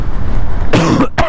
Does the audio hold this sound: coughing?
yes